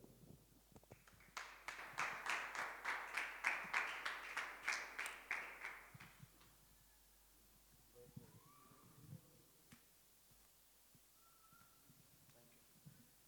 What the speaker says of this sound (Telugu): మరి బిగ్గరగా చప్పట్లు కొడితే ఈ సమయాన్ని ఆత్మీయతానికి అప్పచెప్పుదాం